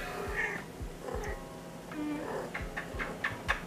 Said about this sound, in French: Comme vous pouvez entendre, j'ai une chatte en chaleur ici.